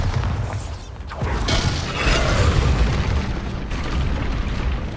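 In the video game Hogwarts Legacy, the Bombarda spell goes off as a deep, booming explosion with rumbling debris and mechanical clatter that lingers loud for several seconds, with no talk.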